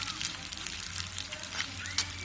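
Edible gum (gond) frying a little at a time in hot desi ghee in a kadai over a low flame, giving a soft continuous crackling sizzle, fairly quiet and close.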